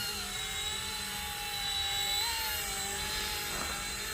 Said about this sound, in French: il est un peu plus bruyant que l'autre hélico que j'ai fait l'unboxing